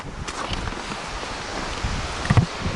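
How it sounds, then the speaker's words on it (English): Gusty wind blows across an open rural spot in Nebraska during stormy weather, a steady broadband rush with louder buffeting toward the end and no talking. "A little windy out here."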